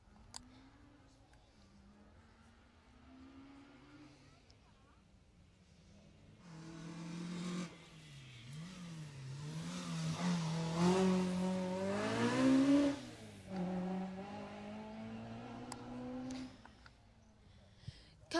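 A Class B Peugeot GTI rally car on a 6.32-mile Jersey Rally stage revs and accelerates from a distance, its engine note rising and falling through gear changes and swelling louder mid-way before easing off.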